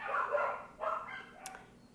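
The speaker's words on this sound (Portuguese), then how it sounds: "Tem os cachorros." Dogs bark at a house, a few short barks and yips in quick bursts at moderate distance, sounding faint and slightly muffled behind the room.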